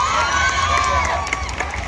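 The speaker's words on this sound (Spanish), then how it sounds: "Un aplauso para él." A street crowd cheers and shouts at the 2023 waiters' race in San Pedro Tlaquepaque, a steady loud roar of voices with scattered whoops and claps, and no clear speech on top.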